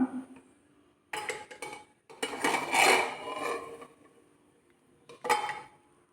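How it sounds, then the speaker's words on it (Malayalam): Metal clanks and scrapes of a pressure cooker lid being opened after cooking mung beans, in a few separate clattering bursts with quiet gaps between them. "നമുക്ക് കുക്കർ ഒന്ന് തുറന്ന് നോക്കാം"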